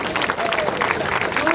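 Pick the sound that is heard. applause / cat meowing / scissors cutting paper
applause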